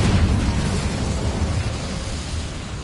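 Incendio fire spell cast in the Hogwarts Legacy video game, a loud whooshing blast of flame with a burst at the start that trails off into a steady roar over about three seconds.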